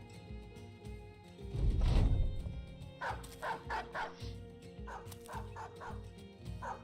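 Several dogs bark in the Battle Brothers video game, a loud burst followed by a run of sharp repeated barks and yips, heard alone.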